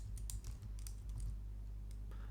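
Fingers tap a computer keyboard in quick irregular bursts of clicks, close and soft, with a low steady hum underneath and no speech.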